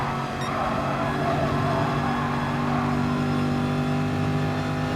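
Close, loud race car engine in Gran Turismo Sport at the Manufacturer Series exhibition holds a steady high drone through a fast-flowing section, with faint tire noise beneath and no voices.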